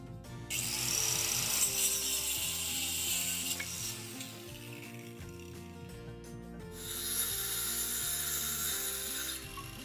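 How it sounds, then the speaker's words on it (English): A circular saw cuts through pieces of wood for DIY outdoor chairs, its loud steady whine rising into two sustained bright cutting passes with a short dip between them, close up and with no voices. "Here I'm using my circular saw."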